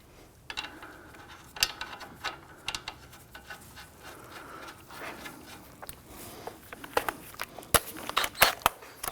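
A sway bar end link on a 2001-2009 Volvo S60 front strut is tightened with a ratchet, giving irregular clicking and scraping bursts in a close, fairly quiet work setting.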